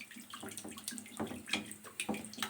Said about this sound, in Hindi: अब मैं इसमें पानी ऐड कर रही हूँ।